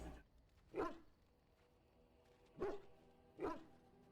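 A dog in the Dragon Age: Origins video game gives three short barks, spaced apart and fairly close, with no talking over them.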